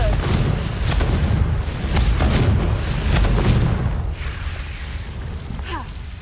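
Hogwarts Legacy Confringo fire spell going off in the game, with deep booming thuds and a rumbling blast that fades over a few seconds, alone without talk.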